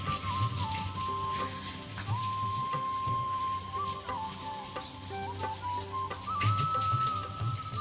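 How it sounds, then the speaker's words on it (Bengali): Rain falling outside a home in the evening, a steady patter of drops with occasional ticking hits on a surface, faint tonal background sounds underneath, no speech. "বৃষ্টি পড়ছে।"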